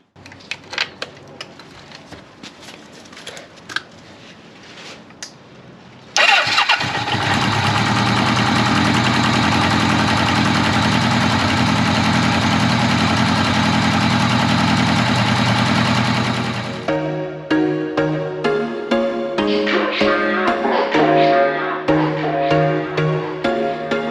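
A motorcycle engine with a suspected oil leak and cam trouble catches and settles into a loud, steady idle for about ten seconds, then cuts out; background music follows.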